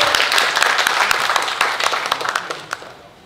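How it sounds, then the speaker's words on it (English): Applause from an audience at the opening of a cat modeling show, a dense wash of clapping that starts loud and gradually fades out over a few seconds. "Can we all give it a round of applause?"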